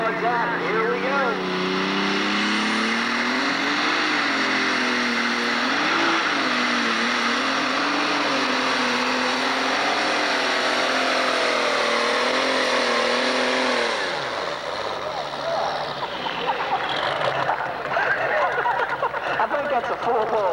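A pulling tractor at a 1996 American Tractor Pulling Association event in Madisonville, Kentucky (5,500 and 7,500 classes) roars down the track. The engine holds a loud, sustained howl with shifting pitch for the whole pass while an announcer talks over it.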